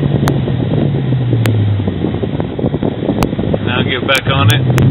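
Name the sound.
2009 Dodge Challenger R/T with Kooks headers exhaust under throttle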